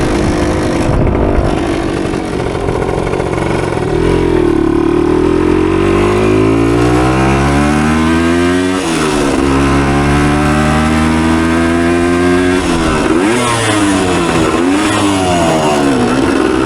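A 1976 Kawasaki KE100 motorcycle's small engine revs loudly and close during a ride, pitch climbing steadily through each gear, then dropping briefly at shifts before rising again in repeated buzzing sweeps.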